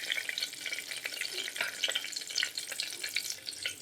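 Cumin seeds and turmeric fry in a pan, giving a soft, continuous crackling sizzle with light scraping from stirring, close and alone with no voices.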